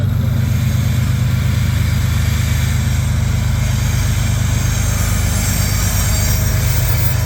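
A CSX mixed freight train accelerates onto the Metropolitan Subdivision, a loud, close, continuous rumble of wheels on rail with a heavy low drone that stays steady throughout.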